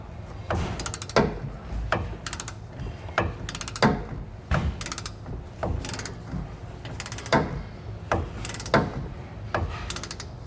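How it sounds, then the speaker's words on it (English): Socket wrench ratcheting by hand on bolts for Dexter trailer springs, giving repeated bursts of sharp metallic clicking in short strokes separated by brief pauses, close and clear with no talk. "right now I'm just doing this with our regular socket wrench just to get it kind of hand tight"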